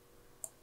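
A single soft mouse click on an icon, short and quiet, standing alone against faint room hiss.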